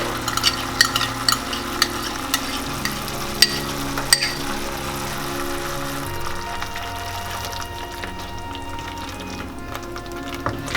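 Tomato puree stirred into spices frying in a pan for matar paneer, a steady sizzle with scraping spoon clicks and knocks throughout, close by with no talking.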